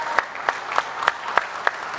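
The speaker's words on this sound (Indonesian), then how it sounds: "Tepuk tangan yang meriah untuk seluruh teman-teman yang akan melakukan liputan Mudik Gesit 2026." A press gathering applauds reporters heading out to cover holiday homecoming traffic, with a row of evenly spaced, loud claps that sound like a small group clapping in unison.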